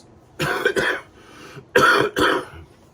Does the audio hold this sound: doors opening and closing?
no